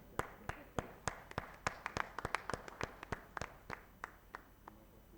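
Scattered hand claps from a small conference audience, individual sharp claps in an irregular patter, faint and fairly close, tapering off over a few seconds.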